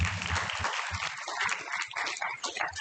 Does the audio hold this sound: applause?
yes